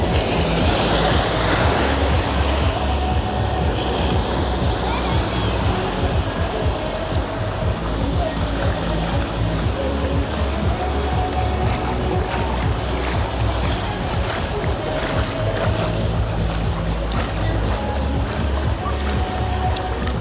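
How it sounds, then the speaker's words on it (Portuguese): Artificial surf churns steadily at the wave pool of the Rio Quente Resorts water park, a loud, unbroken rush of water and wind-like noise filling the whole stretch with no clear pauses. "Aí sim entra pra piscina de ondas."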